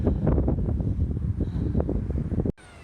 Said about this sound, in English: The wind is not letting up at all.